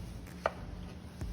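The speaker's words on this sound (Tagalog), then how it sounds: "And cut into cubes." A knife chops food into cubes on a cutting board, heard as a few sharp, close taps, one of them clearly louder, in a quiet kitchen.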